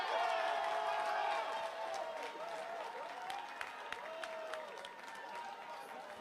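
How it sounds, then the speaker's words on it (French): Audience applause during a corporate anniversary speech by a company CEO, a dense wash of clapping that starts loud and eases slightly over several seconds, with some voices mixed in. "Je vois les dollatiers applaudir beaucoup."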